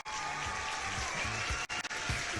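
Cheering squad greeting a studio audience with loud, continuous applause and cheers, steady throughout with a couple of brief dips near the end.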